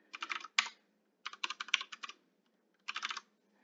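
A password being typed on a computer keyboard: three quick bursts of crisp key clicks separated by short pauses, close and quiet with no talk.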